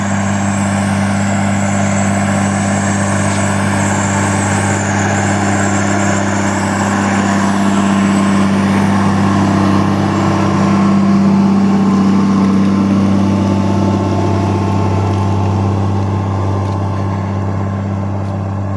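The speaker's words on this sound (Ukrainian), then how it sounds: "Трактор тягне й швидше, просто тоді взагалі бешена пробуксовка." A Case MX270 tractor engine drones steadily at close range while pulling a plough through sticky clay soil, a deep, constant hum that swells slightly in the middle, working under load with wheelspin and no voices.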